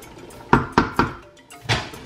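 A lid clatters onto a pot of egusi stew: three sharp metallic knocks in quick succession, then a softer thunk as it settles, close and clear with no talk.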